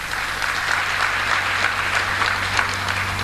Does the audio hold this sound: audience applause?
yes